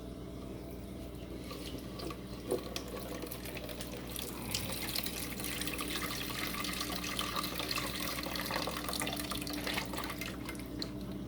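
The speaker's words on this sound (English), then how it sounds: "I'm going to go ahead and rinse all this stuff out, just kind of get all the detritus out of it." Box filter media being rinsed in aquarium water, a quiet, steady wash of running and splashing water that continues throughout with faint drips, no voices.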